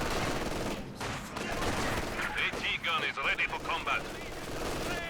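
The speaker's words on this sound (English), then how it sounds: "MG in the building though, doing a good job holding things down." Machine gun fire from a Company of Heroes 2 match, with a building-held MG rattling out rapid bursts mid-clip over battlefield din while a commentator talks throughout.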